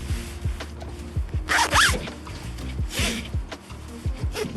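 Tie-down strap on a canoe fastened to a car roof, drawn through a buckle in quick zipping pulls, close and fairly loud, repeated several times in short bursts.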